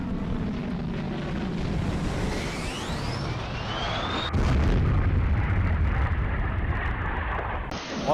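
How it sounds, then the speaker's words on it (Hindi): Deep booming artillery explosions in a Russian border region near Ukraine, heavy rumbling bursts with a rising whine above, loud and sustained over steady background noise. "यूक्रेन ने ब्रियांस्क में आर्टिलरी अटैक"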